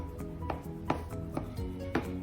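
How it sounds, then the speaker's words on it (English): A knife chops through ranchero cheese on a cutting board in a kitchen, striking in a quick, regular rhythm of about five crisp close-up taps. "just cutting up the ranchero cheese"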